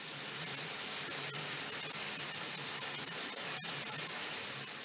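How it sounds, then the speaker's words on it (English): Electrostatic spray equipment paints a commercial aircraft in a large plane factory, giving a steady, even hiss of spray that holds for several seconds with faint clicks and no speech. "achieving uniform coverage using electrostatic spray equipment and sophisticated sanders"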